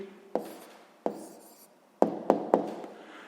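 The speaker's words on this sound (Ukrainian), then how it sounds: "Записуємо тоді відповідь." A hand writing an answer on paper during a sixth-grade maths exercise, heard as a few short, crisp pen strokes and taps with pauses between them, close and alone.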